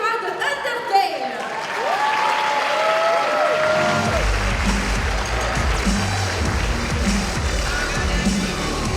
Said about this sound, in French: On l'applaudit bien fort, Kara de Undertale